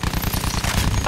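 Sustained machine gun fire from the World War I shooter Battlefield 1, a dense continuous rattle of rapid shots with no pauses, loud and close throughout.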